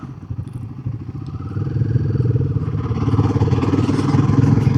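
Royal Enfield 450 motorcycle on the road with 17-inch wheels, a close, steady engine drone that builds as the rider accelerates and shifts up through the gears.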